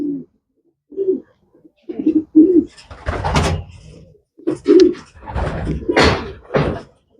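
Racing pigeons kept for long-distance breeding coo in short, low, throaty bursts repeated through the loft, joined by louder rustling and clattering noises nearby.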